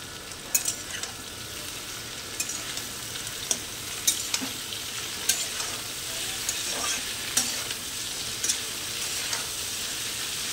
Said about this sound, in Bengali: এবারে নেড়ে নেব